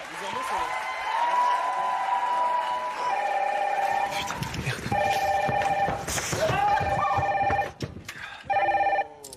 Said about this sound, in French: Ce soir, le téléphone rouge a fait entendre sa sonnerie pour la première fois.